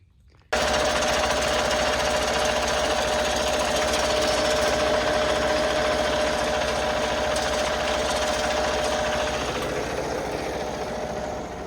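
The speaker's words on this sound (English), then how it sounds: "I guess I found my annoying bumper rattle." A loose truck bumper buzzes and rattles in a steady, loud, mechanical chatter over a running engine for about eleven seconds. No one talks.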